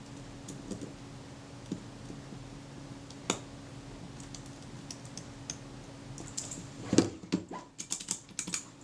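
Fingers press the keys of an Apple IIc keyboard one after another, with scattered soft clicks that quicken into a denser run of clatter near the end.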